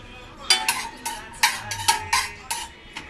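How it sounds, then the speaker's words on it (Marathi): A spoon scrapes and taps in a pan as cashews and raisins are stirred in hot ghee, with about a dozen sharp metallic clinks coming in an irregular rhythm and a faint sizzle underneath. "तूप गरम झालं की काजू आणि मनुके ते परतून घ्यायचे आपल्याला"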